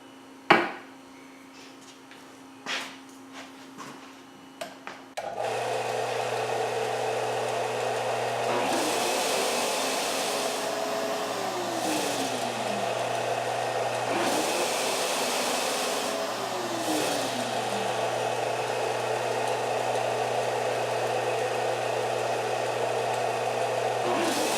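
A homemade vacuum dust-collection system runs with a shop sander, a steady loud drone filling most of the clip after a few sharp knocks and a sudden start, with the motor pitch rising and falling twice.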